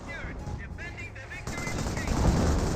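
Artillery and gunfire in a Company of Heroes battle, rumbling bursts that build toward the end beneath scattered game voice lines and radio-like chatter.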